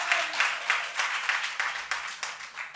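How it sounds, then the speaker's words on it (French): Applause from an audience at the First Lady's reception for the Éléphantes, a quick steady patter of hand claps, rather faint and somewhat distant, continuing without a break. "Donc je vous demande de l'applaudir aussi très fort."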